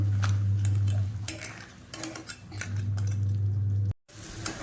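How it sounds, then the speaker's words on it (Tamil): Crab gravy stirred in a pan, a spoon scraping and clinking against the metal with steady sizzling and a low hum, ending in a brief silence before the noise resumes. "இது நல்லா கிளறி விட்டுக்கலாம்"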